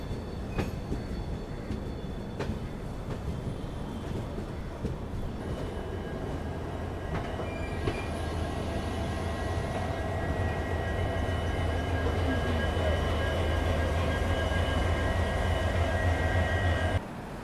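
Indore–Delhi Sarai Rohilla Express pulling into Delhi Sarai Rohilla railway station, a steady, loud rumble of rolling wagons with faint wheel squeals, heard close from on board, with no talking.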